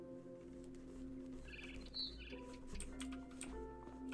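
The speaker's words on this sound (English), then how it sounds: "Then I heard chirping outside my window." Game-world ambience from What Remains of Edith Finch: a barn swallow chirps outside a window in short, scattered tweets, faint and distant over a quiet background.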